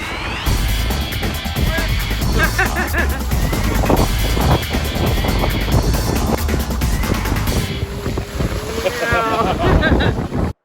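Strong wind buffets the microphone continuously aboard a sailing boat at sea, roaring and gusting with water and boat noise beneath it.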